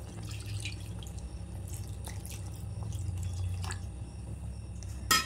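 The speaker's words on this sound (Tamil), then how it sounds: "இந்த பாலை 2வது பால் எடுத்துருக்கேன்ல, இதை முதல்ல நான் ஊற்றிடுறேன்" Second-extract coconut milk is poured into a pan for sweet paal kozhukattai, a soft continuous liquid trickle with faint dripping and light splashes, ending in a brief clink.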